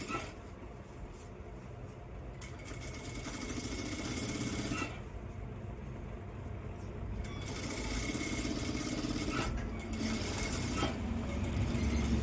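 A sewing machine stitches a blouse, running in a continuous close whir with brief pauses between bursts, while a voice talks quietly in the background.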